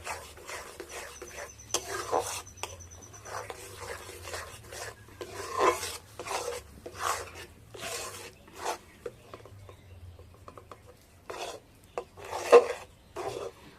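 Rice flour being stirred by hand into boiling bottle gourd, heard as repeated rasping, scraping strokes in an uneven rhythm, close and moderately loud, with a low hum beneath.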